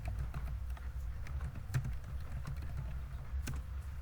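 Typing on a computer keyboard while entering column headings into an MS Excel spreadsheet: a steady run of close, quick key clicks with uneven rhythm over faint low room hum, no talking.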